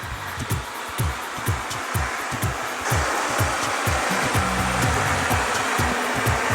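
A robot vacuum-mop runs a steady motorized whir with a rapid rhythmic thumping, loud and close, which deepens partway through as the mopping kicks in.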